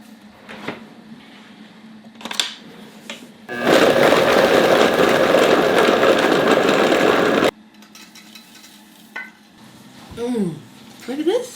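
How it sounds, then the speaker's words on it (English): Cookie dough being stirred: a loud, steady, motorized whir runs for about four seconds, then stops abruptly, with people talking before and after it. "You gotta stir it"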